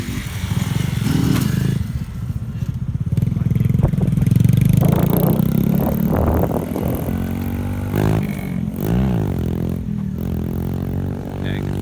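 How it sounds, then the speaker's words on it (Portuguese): A motorcycle engine idles and revs in rising and falling bursts close by, with some clattering and scraping mixed in. "Moto do Danilo aí, ó."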